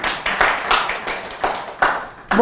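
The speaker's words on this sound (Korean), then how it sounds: "박수 한번 쳐주셔야 되는 거 아닙니까?" A church congregation claps in quick, even bursts, close and fairly loud, for a couple of seconds, with a voice starting at the very end.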